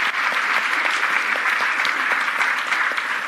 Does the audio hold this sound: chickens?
no